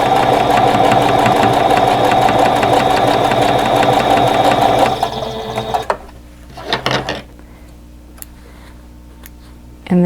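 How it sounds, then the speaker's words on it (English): A sewing machine stitches a quilt block seam in one steady, loud mechanical run for about five seconds, then stops, leaving faint handling noises and a short whir near the end. "And then sew the seam."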